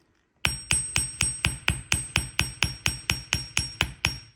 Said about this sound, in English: So I'm just going to hammer.